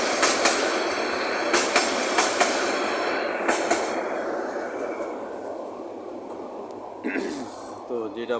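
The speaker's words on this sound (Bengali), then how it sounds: "অনেক বড় একটি ট্রেন দেখতে পাচ্ছেন, আন্তনগর সার্ভিস" A long Bangladesh Railway intercity train rolls past in the open with a steady loud rumble, regular clickety-clack wheel beats over rail joints, and a brief metallic squeal near the end.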